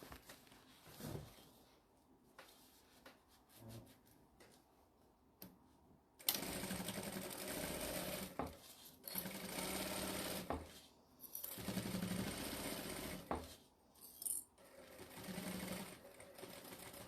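A sewing machine stitches the side of a tote bag in quick rattling bursts, first faint and intermittent, then in longer loud runs separated by short pauses, close and alone.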